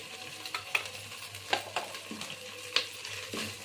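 Ginger garlic paste and coriander powder frying in oil for a country chicken pulao, a soft sizzle under repeated spoon scrapes and taps against the pan, fairly quiet, no talk.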